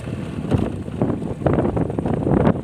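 Strong wind buffets the microphone at a dried-up dam reservoir, the Pa Sak dam, roaring in loud, uneven gusts that swell and ease throughout with no voices.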